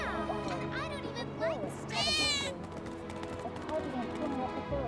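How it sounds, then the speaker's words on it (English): A cat in the Final Fantasy VII Remake video game gives a short rising meow, then a longer one, over game music, footsteps and people talking. "I think one of Betty's cats might be nearby."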